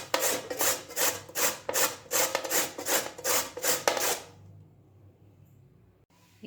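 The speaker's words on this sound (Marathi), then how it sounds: "आता त्यानंतर व्यवस्थित असं किसून घ्यायचं आहे." Carrots being grated by hand for carrot halwa, a close, rhythmic rasping of about ten quick back-and-forth strokes, then stopping abruptly and leaving near silence.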